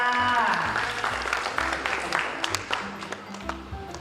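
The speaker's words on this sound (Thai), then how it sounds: "ปรบมือต้อนรับอาจารย์ภูมิค่ะ" An audience claps to welcome a teacher at a study-guidance event at a technology college in Chonburi, a steady round of applause running under voices and a low tonal background.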